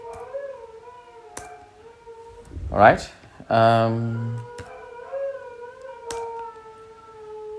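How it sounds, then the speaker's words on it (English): Dogs howl indoors, a rising, wavering howl and then a longer harmonic wail, heard behind someone speaking briefly. "Pardon my dogs."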